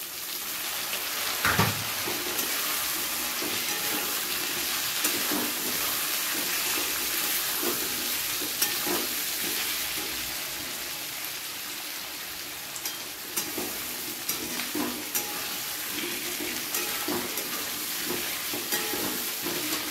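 Chopped tomato, onion and potato fry together in a pan, a steady broad sizzle throughout with occasional scrapes and knocks of a stirring spoon, no talking.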